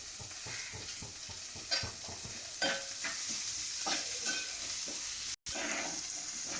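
Shallots and sliced green chillies fry in a pan with a steady, crackling sizzle, broken by repeated scraping strokes of stirring, fairly close and without talk.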